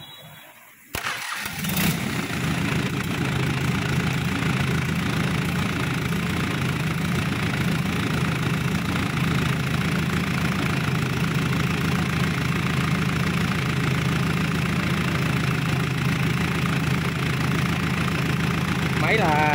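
A Mitsubishi S4DQ four-stroke engine of 45 horsepower starts up and then idles steadily with a constant, close mechanical drone and a faint knocking rumble throughout.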